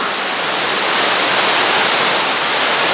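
Water rushes continuously through a flooded underground mine decline, a dense, steady broadband roar with no pauses or voices.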